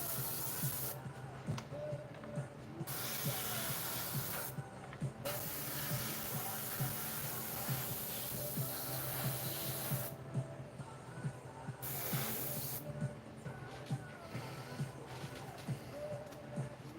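An airbrush hisses in short bursts while paint goes onto a miniature, with steady spray broken by brief pauses at a moderate, close level.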